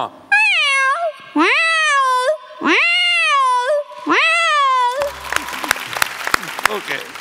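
A human voice imitates a cat, drawing out three long, rising-and-falling meows close to the microphone, followed by a burst of audience applause and cheering on a comedy stage show.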